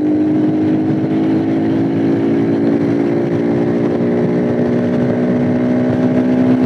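A modified Honda CGL125 motorcycle, bored out to 200cc, drones loudly and steadily, its pitch creeping upward as it accelerates, close and constant throughout.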